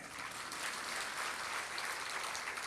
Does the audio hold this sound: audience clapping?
yes